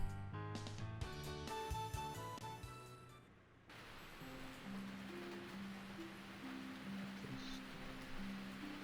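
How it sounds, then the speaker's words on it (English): Heavy rain falls in the visual novel Princess Evangile: after a stretch of music cuts off, a steady, quiet hiss of downpour takes over, with a soft melody continuing faintly beneath it. "it's really raining hard"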